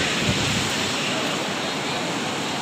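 Sea waves at Hawksbay Beach in Karachi at high water, a loud, unbroken wash of surf with wind-like hiss filling the whole stretch and no voices.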